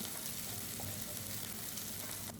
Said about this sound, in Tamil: வெங்காயம் வந்து நல்லா வந்து வதங்கட்டும்